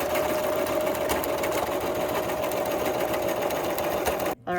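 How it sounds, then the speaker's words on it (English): A sewing machine runs a steady straight stitch down a strip of Velcro on fabric for a pillow, a continuous close whirring hum that cuts off abruptly at the end. "put down your presser foot, and start your straight stitch all the way down."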